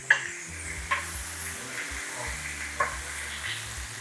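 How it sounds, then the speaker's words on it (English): Axis deer stir fry with fresh vegetables sizzling steadily in a hot pan, a continuous close frying crackle with a few sharper pops and utensil taps, no talking. "You can hear that sizzle."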